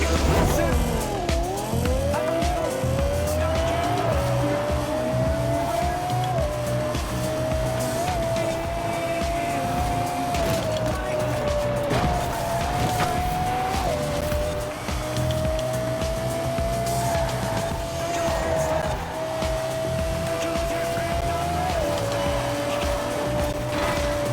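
Lexus LFA revving and driving in Forza Horizon 4, a loud, continuous high-pitched engine note rising and dropping through gear shifts with occasional tire squeal, close and dominant for the whole stretch.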